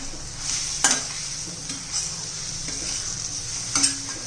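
Homemade spice masala with turmeric and coriander powder sizzles steadily in a pan for a soybean curry, with a few sharper scrapes and knocks of the stirring spoon.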